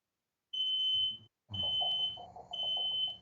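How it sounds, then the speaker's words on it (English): Smoke alarm beeping indoors in a house, heard as sustained high electronic tones in three bursts with a short gap between them, fairly faint, over low background rumble. "Can you hear that beeping? I think someone's burning down the house downstairs."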